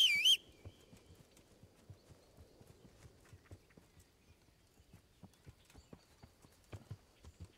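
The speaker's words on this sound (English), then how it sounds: "guess my horse is here" Steady horse hooves clopping at a walking pace in the video game Kingdom Come: Deliverance, a brief high whistle at the very start, then even, moderately quiet footfalls continuing throughout.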